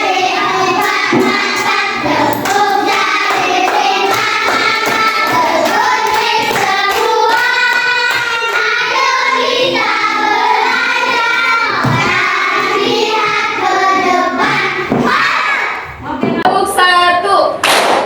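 Elementary school children play a clapping game during a mobile library visit, sharp hand claps and thumps landing in rhythm under loud sung and chanted children's voices, ending in a scattered burst of claps.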